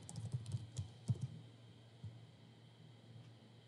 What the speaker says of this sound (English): And start typing it.